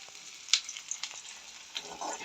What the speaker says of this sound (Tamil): கொஞ்சமாக வந்து வெங்காயம் வதங்கி கொண்டு வருது